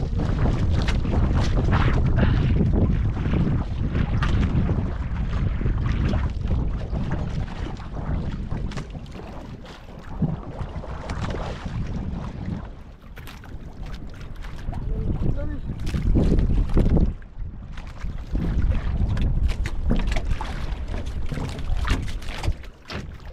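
Strong wind buffets the microphone at sea aboard a small fishing boat, a continuous loud roaring rumble with gusts, with water sloshing against the hull and occasional voices under it.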